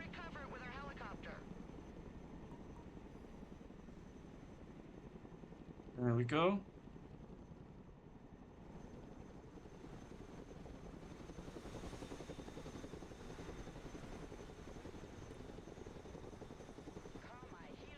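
A cargo helicopter in the video game Broken Arrow drones steadily and low in the background for the whole stretch, with a brief loud burst partway through and occasional spoken comments over it.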